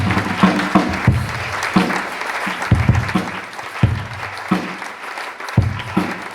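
A church congregation applauding the Lord during a sermon on infidelity in marriage, loud continuous clapping with sharp accented claps standing out, filling the whole stretch.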